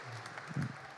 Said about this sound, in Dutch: Geef je een waanzinnig applaus